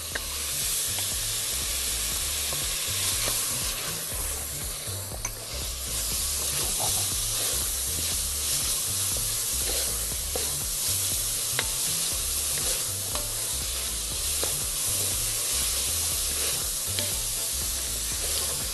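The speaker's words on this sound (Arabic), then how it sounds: "هنزل بالجزر والبصل، خلينا البصل الأول" Onion and carrots sauté in a pan with a constant close hiss and sizzle, occasionally stirred, with no voices over the cooking.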